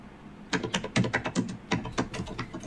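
Rapid keyboard typing, a quick irregular run of crisp clicks and clacks, close up and fairly loud with no talking.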